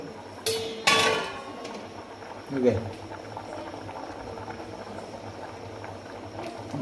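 A pot of moth bean lentil curry bubbles steadily at a low boil, with a couple of sharp metallic clinks of utensils near the start.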